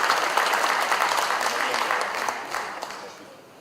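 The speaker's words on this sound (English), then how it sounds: "Please give an applause for Mr." An event audience applauds for Anies Rashid Baswedan as he is introduced to speak; dense, steady clapping that gradually thins and fades out over a few seconds.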